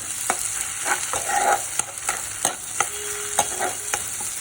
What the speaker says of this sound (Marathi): कांदा असा मस्त परतलेला आहे